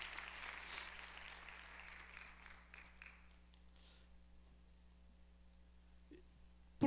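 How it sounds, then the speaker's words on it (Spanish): A church congregation applauding at a Spanish-language service, a dense wash of clapping that fades gradually to near quiet over several seconds. "¿Por qué no le das ese aplauso fuerte al Señor?"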